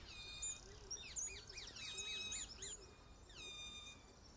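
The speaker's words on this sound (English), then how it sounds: "is also home to a more exotic bird, the ring-necked parakeet" Ring-necked parakeets in southeast England give faint, shrill, rapid chirping calls in a quick series, then a few more after a short pause.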